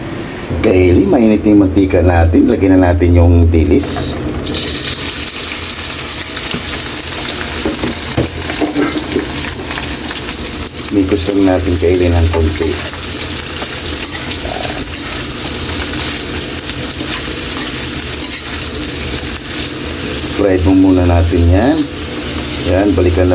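Anchovies (dilis) frying in heated cooking oil, a steady broad sizzle running throughout, with a person talking intermittently over it.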